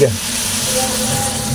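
Water splashes into a hot frying pan of milkfish being cooked, setting off a loud, steady sizzle and hiss that fills the whole moment.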